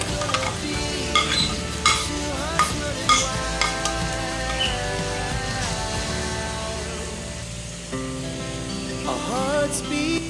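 Bitter gourd (ampalaya) tipped into a pan with chicken and stirred, giving a steady sizzle with scraping utensil strokes and clinks of metal against the pan throughout.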